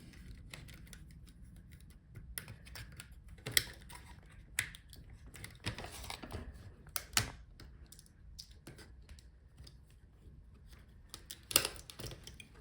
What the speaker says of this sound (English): So this is how you can take out the touchpad and the keyboard.